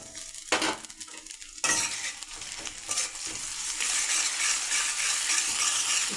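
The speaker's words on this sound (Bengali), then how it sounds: "একটু নেড়ে চেড়ে নিলাম।" Onion, garlic, green chili paste and ginger-cumin paste fry in a pan while being stirred, with close spoon scrapes and clinks over a sizzle that grows louder and steadier.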